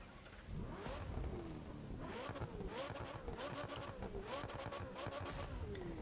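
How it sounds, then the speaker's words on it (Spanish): McLaren 720S Spider twin-turbo V8 in The Crew 2 revving repeatedly in rising and falling sweeps, a throaty growl with turbo-like whooshes, loud and close throughout. "Tiene un sonido súper especial este V8"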